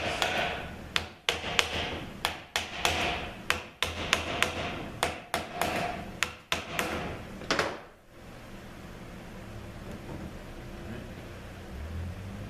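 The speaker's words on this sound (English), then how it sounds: "now we're going to knock the body here" Sharp knocks, about a dozen, strike the body of a Mercedes 722.5 transmission in an irregular series over eight seconds, each a hard metallic tap with a short ring, followed by quieter low background noise.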